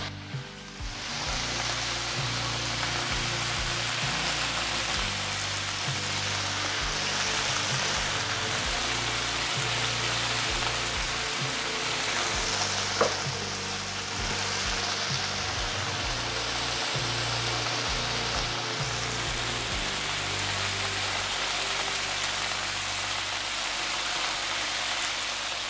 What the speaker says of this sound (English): So that's what the sizzle that you're hearing, but it will settle down.